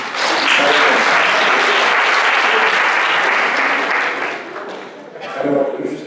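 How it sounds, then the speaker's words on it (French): Audience applause, loud and dense for several seconds, then thinning and fading before a brief final swell. "l'applaudissement, c'est quelque chose d'intéressant"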